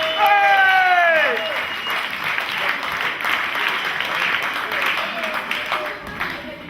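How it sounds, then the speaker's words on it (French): An audience applauds young players and their parents at a village sports club's title celebration in Rossemaison. A voice is heard briefly at the start, then sustained clapping follows, fading slightly toward the end. "je pense qu'on peut les applaudir."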